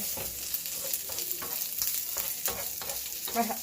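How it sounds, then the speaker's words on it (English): Minced garlic for spaghetti carbonara fries in a pan with a steady close sizzle, while a spoon stirs it with soft irregular scrapes and light taps; no voices. "it's really minced garlic. So give that a stir."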